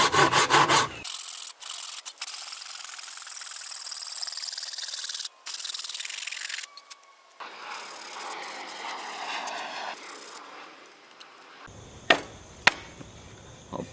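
A hand saw rips along a clamped wooden board with rough, steady rubbing strokes close by, broken by brief pauses and a couple of sharp knocks near the end.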